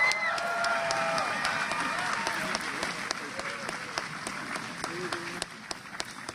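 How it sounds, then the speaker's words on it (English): Audience applause at the 2014 Walla Walla University commencement greets a history graduate, a steady wash of many hands clapping that runs throughout, with a few sharper claps standing out and faint voices mixed in. "please give him a strong round of applause"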